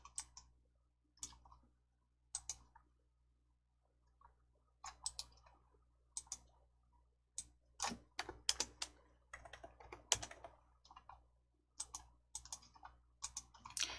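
Computer keyboard keys being typed and clicked in short, irregular bursts with pauses between them, close and fairly quiet against a low steady hum, with no voices.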